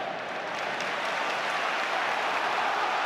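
The home crowd at a Coventry versus Gillingham League One football match cheers and applauds, a broad, sustained roar of many voices at a distance, steady and unbroken.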